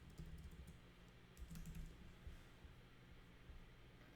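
Soft, close typing on a computer keyboard: a quick run of light key clicks sits over a faint hiss.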